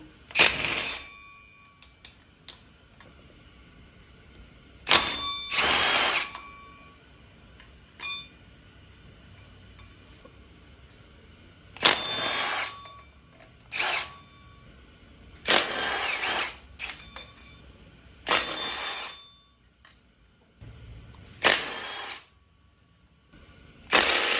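A power tool zaps loose the water pump bolts on a Honda K20A Type R engine in short separate bursts, about eight whirring pulses split by quiet pauses, with small clinks of tools and metal between them.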